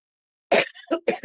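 A person with a lingering, barking cough lets out a harsh burst after silence, then two more rough coughs in quick succession, close and loud.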